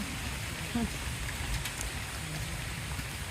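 Steady rain falls across a Bangladeshi village setting, a dense even patter at moderate level that continues throughout, with people talking over it.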